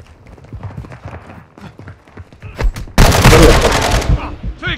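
Gunfire in the shooter game Call of Duty: Modern Warfare II. A quick burst of loud, close automatic fire rattles for about a second after scattered lighter shots, and voices are heard throughout.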